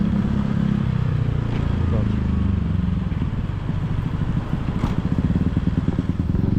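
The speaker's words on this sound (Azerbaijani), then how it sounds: "Motosikleti park edək" A motorcycle engine rumbles steadily at close range in Phuket, Thailand, a low continuous drone with rhythmic pulsing throughout, while people talk over it.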